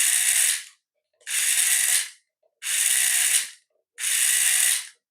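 Drivetrain of a small RC Hummer whirs loudly under power in four even bursts of roughly a second each, separated by short silences, up close with no talk.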